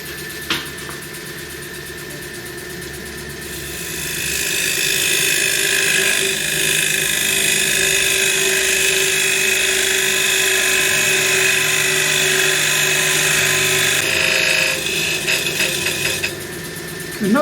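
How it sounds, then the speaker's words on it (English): A parting-off tool cuts into a spinning blackwood bowl on a wood lathe, a loud, steady whine over the motor hum that swells as the tool bites and then eases off near the end. "This is a parting off tool, and machine a nice gouge in there so it gives my chuck something to hang on to."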